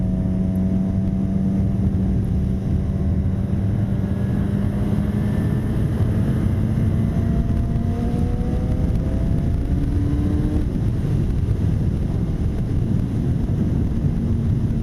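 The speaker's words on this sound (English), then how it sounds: "Whoa, car backing up." A car on a rural road gives a loud, steady engine drone whose pitch climbs slowly, mixed with constant wind rush and no voices.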